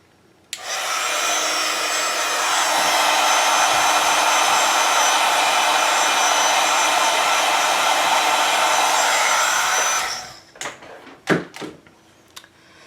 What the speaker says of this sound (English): I'm just going to hit it with my heat gun for about 10 seconds